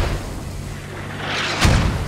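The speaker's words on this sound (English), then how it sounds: "The mortar's getting really close." A mortar round landing close by in the military game Squad, one sharp loud boom near the end after a low rumbling background.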